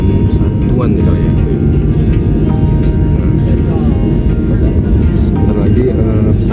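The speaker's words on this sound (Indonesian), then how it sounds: "Sebentar lagi pesawat akan lepas landas atau take off ya." A passenger plane at Soekarno-Hatta airport, bound for Pontianak, roars with a loud, constant engine drone heard from inside the cabin as it gets ready for takeoff, while a person talks over it.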